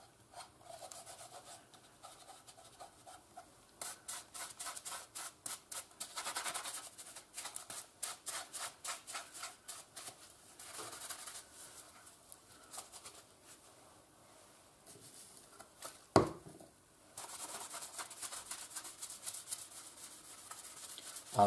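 Quiet, close back-and-forth rubbing as finish is worked into an A. Wright knife during refurbishment, coming in rhythmic bursts of strokes with brief pauses and one sharp knock.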